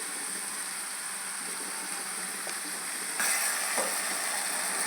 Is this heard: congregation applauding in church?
no